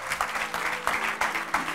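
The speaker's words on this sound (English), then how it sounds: "And now I would like you to give them a very big applause." Brief clapping from a film festival audience welcoming a filmmaker, moderately loud with a few sharper bursts standing out from the patter.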